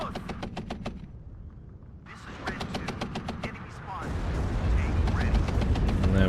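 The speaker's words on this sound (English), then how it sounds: "the Mi-24D, all it needs to do is get some more rockets on target, and my Abrams will go down." Mi-24D attack helicopter rockets strike an Abrams tank in the war strategy game WARNO, a rapid series of sharp impact cracks building into heavy, continuous explosive rumble, loud and close, with game battle noise throughout.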